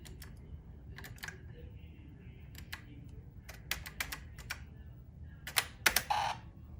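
Keys on an Apple IIc computer keyboard clatter in a scattered run of sharp clicks, the spacebar among them, over a low steady hum, growing louder and denser toward the end.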